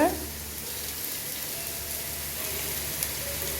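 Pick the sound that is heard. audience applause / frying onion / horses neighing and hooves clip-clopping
frying onion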